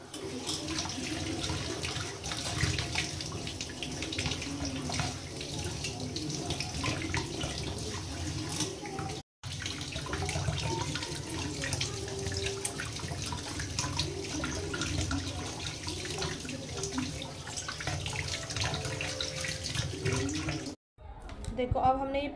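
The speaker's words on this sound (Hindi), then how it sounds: "पानी से साफ पानी से धो लेंगे तो देखना ये कैसी नई की तरह चमकेंगी।" Silver anklets rinsed under a running tap, a steady rush of water splashing continuously with two brief breaks, while someone talks over it.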